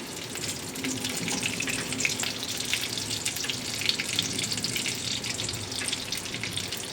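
Whole garam masala and cumin seeds crackle and sizzle in hot oil while tempering for a pointed gourd dish, a steady close hiss with small pops, no one talking.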